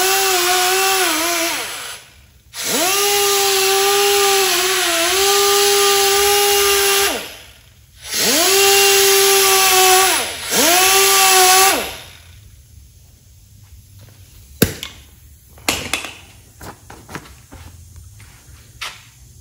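A grinder enlarges a small hole in a steel Nitrous Express softline nitrous fogger bracket so it fits over a 1/2-inch carburetor stud. It runs in four loud, steady whining bursts separated by short pauses, then gives way to faint clatter.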